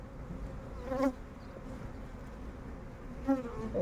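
Honey bees buzzing around an open hive during an inspection, a close, steady insect hum with a couple of louder passes as single bees fly near.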